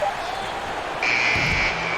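A basketball arena buzzer sounds at the end of a shot in a game, its electronic tone holding for under a second over steady crowd noise and commentary.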